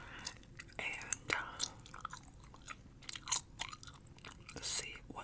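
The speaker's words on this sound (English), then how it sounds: "some extra long-lasting spearmint gum in." Close, soft mouth sounds of spearmint gum being chewed, with irregular wet clicks and smacks in an ASMR setting, mixed with quiet breathy whispering.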